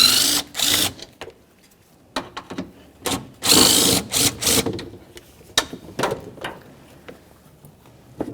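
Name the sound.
removing 10mm bolts on Chevrolet Silverado fan shroud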